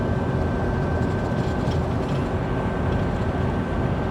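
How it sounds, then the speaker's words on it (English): Inside a car cruising at highway speed, about 95, with the windows shut. A steady low road-and-engine rumble fills the cabin without change, and a faint whine sits above it. "So now we're just dealing with inside car noises."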